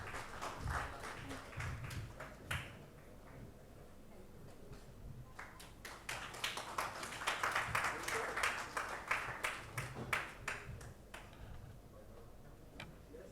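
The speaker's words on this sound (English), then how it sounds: "please give a big round of applause for Professor Dr." Scattered, fairly light audience clapping builds into a denser round of applause for a conference speaker, with individual claps distinct and a voice heard near the start.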